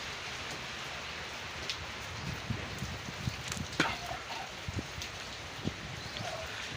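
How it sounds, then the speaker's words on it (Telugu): Steady rain falling outdoors during a function, a continuous soft hiss with scattered drops and pattering, no talk over it. "ఒక పక్క ఎండ వస్తుంది, ఒక పక్క వాన వస్తుంది."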